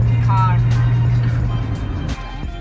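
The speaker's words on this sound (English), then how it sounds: "She drives a 92 Stang, and my mom and I took it out for a whirl." A 1992 Ford Mustang hums along on the road with a steady engine drone, close and fairly loud from inside the car, while people talk over it.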